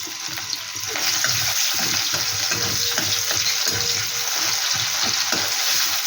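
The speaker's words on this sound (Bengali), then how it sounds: "দিয়ে দিচ্ছি সামান্য একটু পেঁয়াজ কুচি, এটাকে একটু লাল লাল করে ভেজে নেব।" Chopped onion fries in hot oil with black cumin seeds, a steady close sizzle that swells after the first second, with faint stirring scrapes underneath and no voices.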